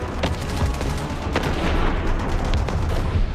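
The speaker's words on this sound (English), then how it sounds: "The anti-aircraft gunners were firing at perceived targets." Anti-aircraft artillery fires 76mm shells into the night sky, a rapid barrage of sharp gun reports and booms layered over a constant roar, loud and unbroken.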